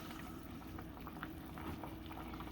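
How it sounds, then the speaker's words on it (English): Italian wedding soup with orzo bubbles quietly in a pot, a soft, even burble with small pops, faint and steady throughout. "So now we can turn this down to a simmer."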